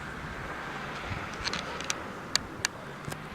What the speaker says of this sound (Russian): Мелкий дождик идет.